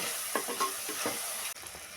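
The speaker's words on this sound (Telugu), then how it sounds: "ఉల్లిగడ్డలు అల్లం వెల్లుల్లి పేస్ట్ బాగా పచ్చి వాసన పోయేంత వరకు వేగాలండి ఇలా కలుపుకుంటూ ఉండాలండి అడుగు మారకుండా" Onions fry with ginger garlic paste in a pan at home, a spoon scraping through them in a few short strokes over a constant sizzle, with a brief dip near the end.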